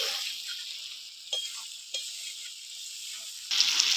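Water lily stems cooking down in a pan with their released liquid, a soft close sizzle with a few quick stirring scrapes and a louder burst of hiss near the end.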